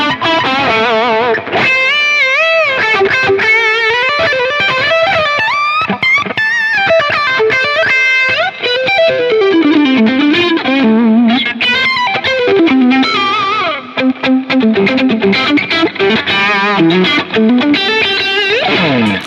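High-gain distorted electric guitar played through the Archetype Misha Mansoor amp plugin, loud and continuous, with fast riffing, sustained bends and melodic lead lines over a thick saturated tone.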